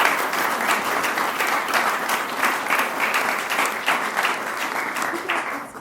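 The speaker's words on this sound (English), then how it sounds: "I think that deserves a round of applause" Wedding ceremony guests applauding together, a steady, dense round of clapping that runs throughout at moderate loudness before thinning slightly at the end.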